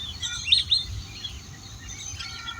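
Migratory ducks on a winter pond give high, thin chirping calls, steady and distant with a couple of brief louder peaks, over a low murmur of background noise.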